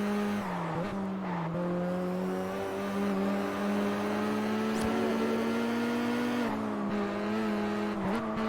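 A tuned Saleen S7 supercar engine in the Test Drive Unlimited racing game drones at a steady high pitch, its tone wavering and oscillating as it holds speed over a long race, loud and continuous with brief shifts in pitch.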